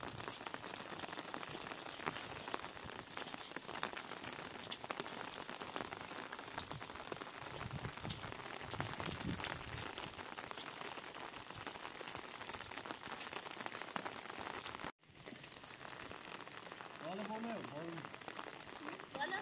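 Steady rain patters on a surface at a nomadic family's camp, a continuous soft hiss that drops out for a moment and resumes, with a voice faintly audible near the end.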